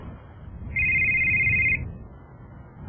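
A telephone rings on a golf course: one steady electronic ring tone lasting about a second, clear and fairly loud over a low outdoor background rumble.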